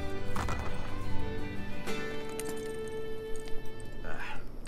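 A horse in the video game Assassin's Creed Brotherhood clip-clops along with steady hoofbeats and a possible whinny, set against busy game ambience that may include a voice.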